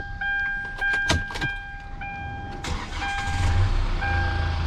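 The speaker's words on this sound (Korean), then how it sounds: "시동은 이렇게 켜보도록 하겠습니다" Inside a used Hyundai Grand Starex van, a warning chime pings and a few clicks sound before the engine cranks over and settles into a low, steady idle rumble.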